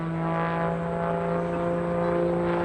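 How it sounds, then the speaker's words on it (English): A highly modified 375-horsepower Pitts Special aerobatic biplane at an airshow, its engine giving a steady, loud droning hum with strong even tones throughout, no voices over it. "375 horsepower in that pit special, highly modified."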